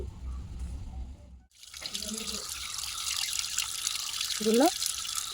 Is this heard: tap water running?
yes